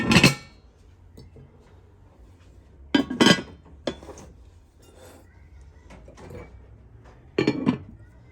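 Metal cookware being handled: a large frying pan with a fitted lid and a 3.8-litre, 240 mm pot, clinking in several short bright clanks and clatters close by, separated by quiet pauses.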